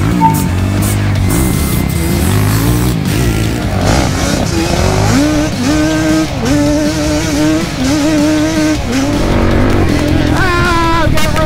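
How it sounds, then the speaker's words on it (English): A Yamaha Banshee ATV launches hard in first gear, its two-stroke engine screaming loud and close with steadily rising, wavering pitch that drops and climbs again through the run. "So I'll just do a first gear launch."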